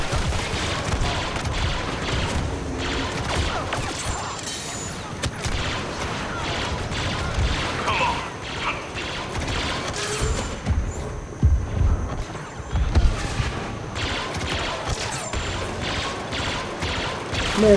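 Blaster gunfire in the Star Wars Battlefront 2 game, rapid bursts of shots and impacts crackling throughout amid battle noise and occasional explosions, with a voice talking faintly underneath.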